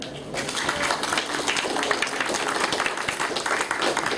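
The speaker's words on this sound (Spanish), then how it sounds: "le doy el paso y le pido por sus aplausos" Steady audience applause for a speaker at a talk in Peru, a continuous wash of many hands clapping at even volume from start to finish.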